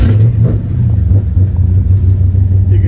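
A 1966 Chevrolet C10 stepside pickup's engine turns over and settles into a loud, steady low rumble close by, idling smoothly without talk.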